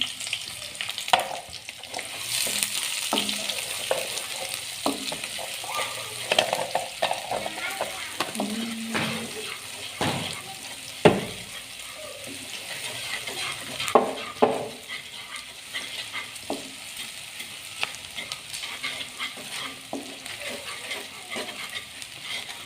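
Chopped onions sizzle and crackle steadily in hot oil in a pan, with occasional scrapes and stirring knocks of a spatula, close and continuous without talk.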